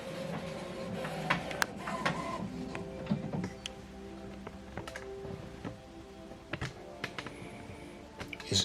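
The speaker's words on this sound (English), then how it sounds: "So right now this printer is getting ready." An HP ENVY Inspire 7220e inkjet printer whirs and clicks as it prepares after ink cartridge installation, with scattered mechanical taps and ticks over a low motor hum.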